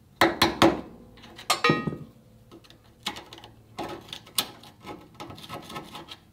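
Metal tool tapping on parts inside an Englander pellet stove to knock debris loose, a quick series of sharp knocks in bursts, close and fairly loud with short pauses between.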